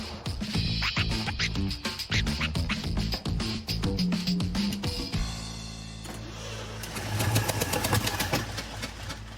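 Old Ford Bronco engine on gasoline cranking and catching, a loud rapid chugging clatter for about five seconds that shifts into a steadier rough running roar, close to the microphone with no talk.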